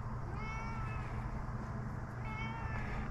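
A talkative house cat meows twice, drawn-out and clear, once near the start and again near the end, over a steady low background hum.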